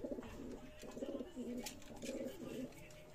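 Teddy pigeons coo close by in repeated low throaty phrases over a steady background hiss, with faint chirps from other birds in a loft.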